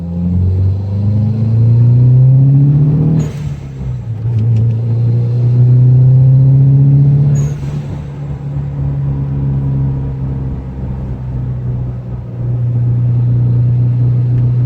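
A Subaru WRX engine revs hard and accelerates, a loud close rumbling drone that climbs in pitch, drops back at gear changes and climbs again, with no talking.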